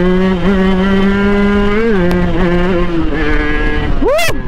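Motorcycle fitted with an aftermarket low-slung exhaust, engine droning loud and close with rising and falling pitch as it pulls, ending in a sharp rev climbing steeply.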